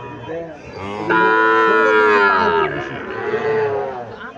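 A calf at a village cattle market near Comilla gives one long, loud, close moo that rises and then trails into a second, weaker lowing call.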